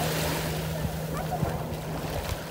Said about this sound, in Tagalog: Pero ang lakas ng alon